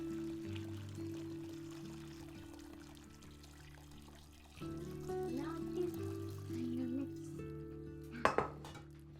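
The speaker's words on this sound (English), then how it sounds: "Just taking a big strainer and straining out all the bones. Let it drip for a while." Homemade chicken stock poured through a big strainer to catch the bones, with pot and utensil clatter over a low steady hum, ending in a couple of sharp metallic knocks.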